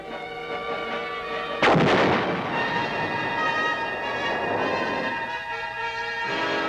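Heavy mobile artillery guns of the Vietnam War fire one loud, close blast that booms and rolls off into a long rumbling echo, with droning mechanical noise underneath throughout.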